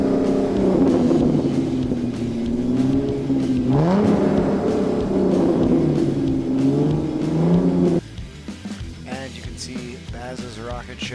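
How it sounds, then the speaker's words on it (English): Race car engines revving hard at the start of a sprint race, a dense roar of several motors climbing and falling in pitch, loud and close, with some voices underneath before the sound drops to a thinner mix near the end. "You can hear that everybody's revving up."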